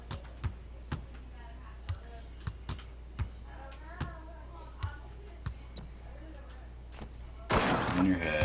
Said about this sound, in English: Head taps all around. Hear that? It's head taps.